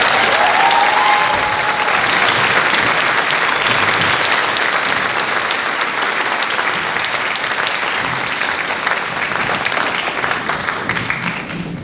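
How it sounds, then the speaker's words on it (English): A gala concert audience applauds an orchestra and a young soloist, loud, dense and sustained clapping from a large crowd that holds steady throughout and eases slightly at the end. "this incredible orchestra are deserving of another round of applause"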